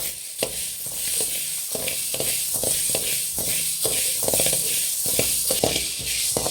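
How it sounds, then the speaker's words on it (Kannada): Dry green gram being roasted in a pan, a steady scraping and rattling of grains stirred around the metal, with repeated rhythmic strokes close by and no talk. "ಹೆಸರು ಕಾಳು ಹಾಕೊಳ್ಳೋಣ ಹೆಸರು ಕಾಳು ಅಷ್ಟೇ ಫ್ರೆಂಡ್ಸ್ ಚೆನ್ನಾಗಿ ಹುರಿಬೇಕು"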